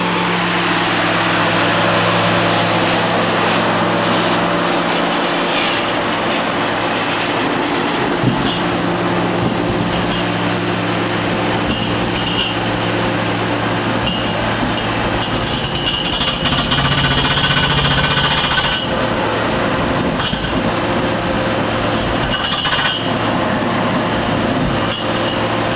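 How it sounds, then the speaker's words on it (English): A good-sized geothermal well drilling rig starting to drill, a loud, continuous rattling, hammering mechanical clatter over a deep engine drone, steady throughout with shifting grinding tones and no speech. "Now we'll walk up and watch you get ready to start the process of the drilling."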